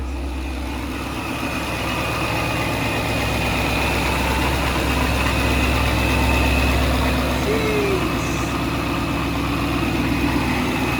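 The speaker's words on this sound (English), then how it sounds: "look at the supercharging noise." A 2016 Ford Mustang GT engine with a Vortech supercharger idles steadily close by, a low rumble with a constant high whine from the supercharger running over it.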